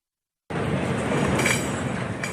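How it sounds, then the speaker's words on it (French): An Oxygen Express special train requisitioned by the Indian government rolls past, a loud, continuous rumble of rail cars with faint metallic clinks, starting abruptly after a brief silence. "Ces trains s'appellent les Oxygène Express, des trains spéciaux réquisitionnés par le gouvernement indien"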